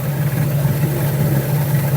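Small outboard boat motor, a Storm 13.5 two-stroke or Suzuki 6HP four-stroke, idling during winter storage, a loud, steady low hum with even, unbroken running and no talk.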